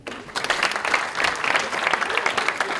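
A small group at a rugby academy gathering breaks into applause on cue, brisk clapping starting abruptly and continuing evenly, fairly close, with some scattered voices mixed in.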